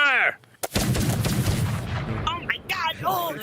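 Loud weapon fire in a roleplay game, a sharp blast followed by a long booming rumble, with people talking before and after it.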